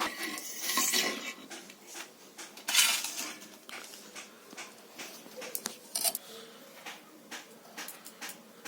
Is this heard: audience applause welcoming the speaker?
no